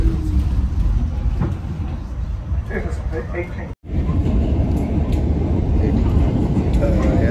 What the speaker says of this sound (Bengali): ট্রেনের ভিতরে